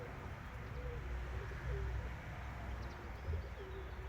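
A pigeon on a rooftop coos softly in repeated low, throaty phrases over a quiet outdoor background, with no talking.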